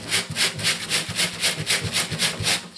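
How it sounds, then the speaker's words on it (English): A shirt being scrubbed by hand with coconut oil liquid soap, a steady back-and-forth rubbing with about a dozen even strokes, close and fairly loud with no talking. "Scrub it everywhere."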